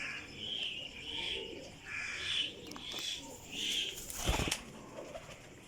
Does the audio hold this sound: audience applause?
no